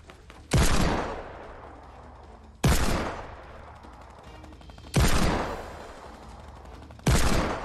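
Turrets fire at each other in Fortnite, four loud separate blasts or short bursts spaced about two seconds apart, each with a sharp attack and a fading tail.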